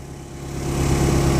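An old Kubota tractor engine running, a steady, close, throbbing mid-low drone that grows slightly louder and rougher as it goes, with no voices.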